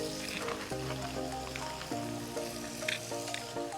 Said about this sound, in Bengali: লাউটা আমি একটু ভেজে নেব